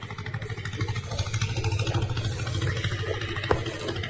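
Two T25 tractors pull ploughs, one a BOMET and one homemade, through wet, heavy soil; a steady, close diesel chug and rattle runs throughout with no talk.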